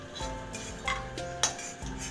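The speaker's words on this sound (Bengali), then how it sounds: "এবার আমি বড়িটাকে তুলে দিচ্ছি একটা বাটিতে।" A spoon scrapes and clinks against a pan while fried bori, lentil dumplings, are lifted out into a bowl. Several short metallic knocks ride over a low, steady background hum, close by, with no voices.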